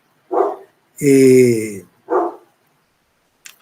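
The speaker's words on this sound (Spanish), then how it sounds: "son los perros del vecino del otro lado" Neighbor's dogs barking from across the way, with three distinct barks, a short one, a longer drawn-out bark and another short one, fairly loud and clear against quiet, followed by a faint brief sound.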